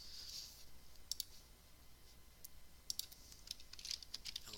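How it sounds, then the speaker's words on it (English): Keys clatter faintly on a computer keyboard in short bursts of clicks, close but quiet, over a low background hiss. "I can actually type it out."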